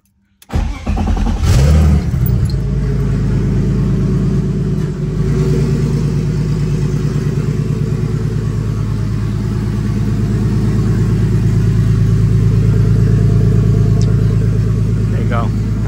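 A turbocharged BMW E46 engine cranks and fires up abruptly, then settles into a loud, steady idle with a pulsing exhaust throb and constant whine, running on alone at close range.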